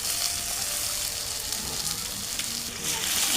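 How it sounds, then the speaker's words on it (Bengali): Chopped onion frying in hot oil with dry chilli, cinnamon and bay leaf, a dense continuous hiss of sizzling, close and fairly loud, with a few faint stirs. "পেঁয়াজটা লাল লাল করে ভেজে নিচ্ছি"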